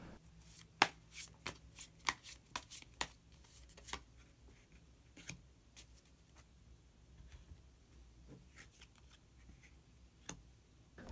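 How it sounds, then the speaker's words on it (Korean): Tarot cards are shuffled and drawn close up, with a run of soft, quick riffling snaps and flicks, then sparse single card taps in a quiet room. "마지막으로 히든 카드 한 장 더 뽑아보도록 하겠습니다"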